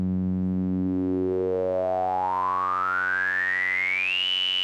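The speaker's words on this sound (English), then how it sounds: "we start off close pitch to kind of a sine wave" A pure, steady near-sine wavetable tone from the Serum 2 synthesizer begins low and smooth, then glides upward in pitch and grows brighter, settling on a high note at the end.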